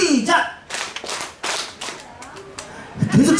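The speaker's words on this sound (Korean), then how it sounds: "자, 다시 한번 박수 6번 반 시작" An outdoor beach crowd at a pumba comedy show claps in a counting game, a handful of sharp, separate group claps in a loose rhythm, with voices heard at the start and end.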